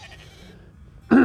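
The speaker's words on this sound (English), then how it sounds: "There's a flock of sheep coming this way." Sheep bleating in the video game Fate/Grand Order, a loud, sharp bleat bursting in at the end after a quieter stretch of low game ambience.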